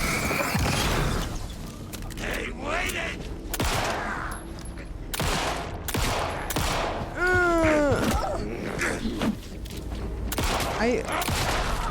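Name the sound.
gunfire in a video game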